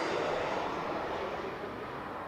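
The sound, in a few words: Global X jet aircraft arriving at Las Vegas airport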